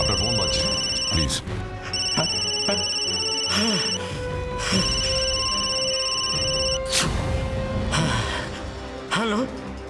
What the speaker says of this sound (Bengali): আপনার ফোন বাজছে, প্লিজ।